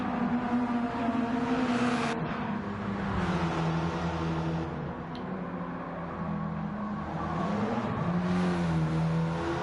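Ford Focus hot hatch in a racing video game, its engine droning and revving steadily with shifting pitch, sustained and fairly close, no talk over it.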